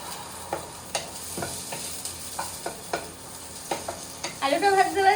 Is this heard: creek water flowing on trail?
no